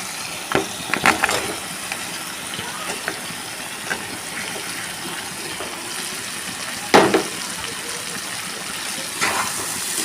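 Potatoes sautéing in a pan of spice masala for a fish curry, a steady broadband sizzle with scattered scrapes and clinks of a spatula stirring, close and moderately loud throughout.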